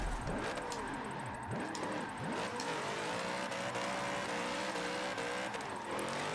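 Mazda RX-7 in Forza Motorsport 7 drifting at Yas Marina North Corkscrew, its engine revving up and down in repeated sweeping surges, loud and close, with tyre noise underneath and no talking.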